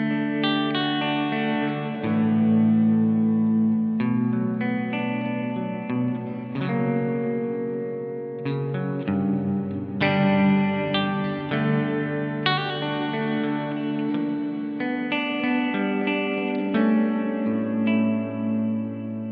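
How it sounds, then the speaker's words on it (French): An electric guitar plays through a hall-type reverb effect, sustained chords ringing out and blending into a long wash. The phrases carry on steadily, with no talk. "Je vous montre juste la hall parce que c'est un peu plus évident."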